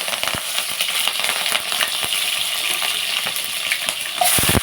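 Green chillies go into hot oil for an okra curry and fry with a steady, close sizzle and crackle. Occasional clicks and spoon knocks sound over it, with no talking.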